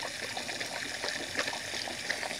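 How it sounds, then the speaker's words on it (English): Water runs steadily in a chicken enclosure, a soft continuous gushing and trickling that stays fairly quiet and close, with no talking. "If you love the sound of water and stuff like that."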